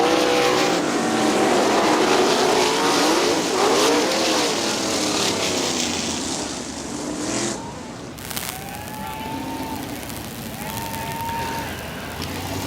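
Sprint cars race at Winston Motor Speedway in a Great Lakes Outlaw Sprint Series event, engines roaring loudly and continuously with rising and falling revs as cars sweep past, under a steady crowd and track din.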